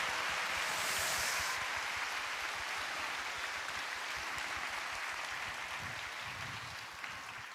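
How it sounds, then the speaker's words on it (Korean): A church congregation applauds to welcome newcomers, a soft, even wash of clapping that stays steady and gently fades toward the end. "환영의 박수 부탁드립니다."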